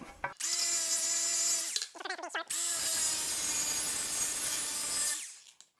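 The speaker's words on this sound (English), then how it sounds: "now I have a polishing pad on here, and I just want to polish this up a little bit" A power polisher fitted with a polishing pad runs against a large tile on a shower floor, giving a loud, steady whine in two long passes split by a short break of rougher grinding.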